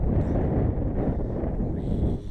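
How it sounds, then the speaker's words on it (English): Steady, heavy wind buffets the microphone throughout while a screened room is set up beside a Class B campervan, a continuous low roar with no talking. "And it's very windy"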